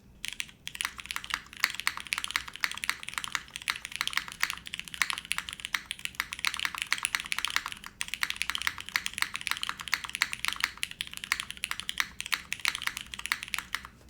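Typing on a custom Kohaku mechanical keyboard build, a steady stream of close, crisp keystroke clacks at a quick, continuous pace, with no talking.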